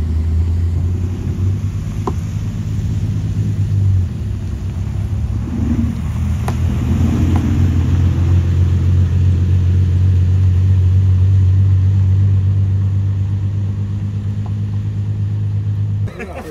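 Concours d'elegance cars arriving with engines running, a loud, steady low engine rumble close by that swells and settles over about sixteen seconds, with small changes in pitch as the cars move.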